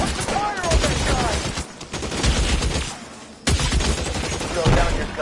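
Rapid bursts of gunfire in L.A. Noire crackle in dense volleys, briefly thinning before a sharp renewed barrage, with shouting voices mixed in.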